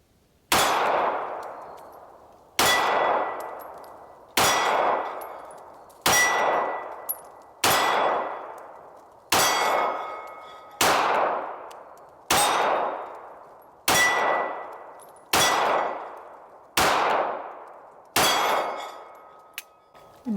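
A Smith & Wesson-style comparison round: a Hellcat .380 pistol fired at targets with iron sights, eleven sharp shots spaced about every one and a half to two seconds, each ringing out and decaying, loud and close with no talking.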